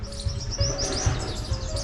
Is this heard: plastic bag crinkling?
no